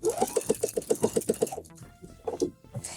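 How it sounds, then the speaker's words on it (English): A sewing machine set to straight stitch runs along the seam allowance of old skinny jeans being remade into wide-leg jeans, giving a quick, regular burst of stitching that stops after about a second and a half, followed by a few softer clicks and handling noises. "I have my machine set up to a straight stitch. So we're just going to stitch down the seam allowance essentially."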